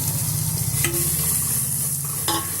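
A spoon stirs beaten egg into vegetables sizzling in a pan for egg Maggi masala, steady frying crackle close by with a couple of brief scraping knocks against the pan.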